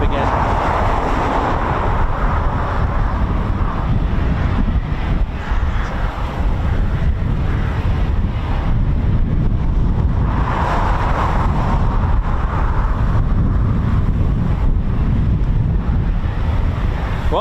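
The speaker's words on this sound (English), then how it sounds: "Oh, you can hear that wind racking up again." Gusty wind buffets the microphone at the RAF Coningsby airfield, a loud, rumbling roar that swells and eases in repeated gusts throughout.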